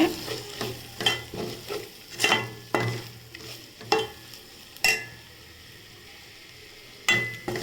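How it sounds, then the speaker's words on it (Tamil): A spice mixture of masala powder, turmeric and coriander powder is sautéed in a pan for egg curry. Repeated scraping spatula strokes and clinks come at an uneven rhythm over a soft, constant sizzle. "மஞ்சத்தூள் மல்லித்தூள் இதெல்லாம் சேர்த்து நல்லா மிக்ஸ் பண்ணிக்கோங்க வதக்கிக்கோங்க"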